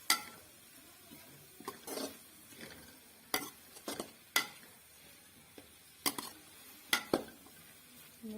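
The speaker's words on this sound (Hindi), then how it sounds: "इन सबको हम बहुत अच्छे से मिक्स करेंगे।" Boiled chicken pieces being stirred into spaghetti sauce in a pan, with scattered scraping and clinking strokes of a spoon against the pot and a faint sizzle, quiet and unhurried with no talking.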